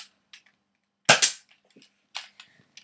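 A modded Switchshot toy launcher fires a suction-cap dart with one sharp, loud snap near the middle. Fainter clicks and handling noises come before and after it.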